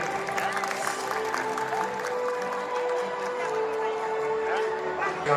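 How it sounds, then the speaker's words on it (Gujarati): A crowd applauds steadily at a community get-together in Rajkot, clapping blending into a sustained roar with some cheering and a tonal hum underneath. "જોરદાર તાળીઓ"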